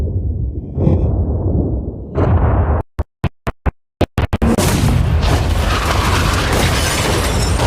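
An explosion blows up a yacht: a few seconds of quiet ambience are cut by a rapid series of sharp, very loud blasts, followed by a long, roaring rumble that fills the rest.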